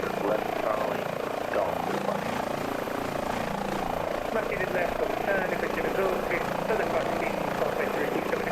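An HPG H145 air ambulance helicopter flying in Microsoft Flight Simulator, with a steady rotor and turbine drone holding evenly throughout at a moderate level.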